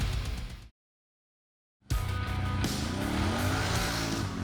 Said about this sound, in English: the Renegade is powered by a 976cc V-twin liquid-cooled Rotax 4-stroke engine,